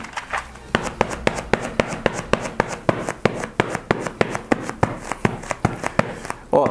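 Goalkeeper gloves with water sprayed on both palms clapped together again and again, making a steady run of about twenty sharp, close, tacky slaps.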